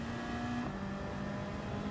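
A Gran Turismo race car engine drones steadily under power at moderate distance, a brief two-second sustained hum with a slight pitch shift, no voices.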